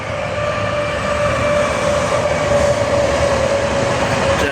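A train rolls steadily past at close range, a continuous loud rumble and rail roar with a faint tonal hum throughout and no voices.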